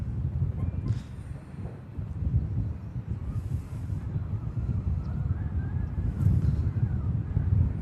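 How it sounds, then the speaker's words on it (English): A gusty southerly crosswind at Manchester Airport buffets the microphone with loud, continuous low rumbling that surges and eases, with faint higher tones drifting above. "There is actually a crosswind, southerly crosswind today, ladies and gents. Pretty gusty."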